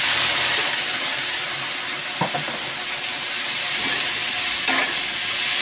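Bitter gourd (ampalaya) frying in a pan, a loud, dense, hissing sizzle that runs continuously up close, with a couple of brief spatter pops and no voices.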